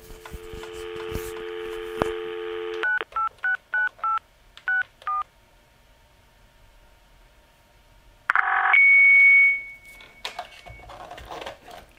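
A dial tone cut by a quick run of touch-tone beeps, a pause, then a harsh Novation CAT modem handshake screech and warbling carrier noise over a real phone line.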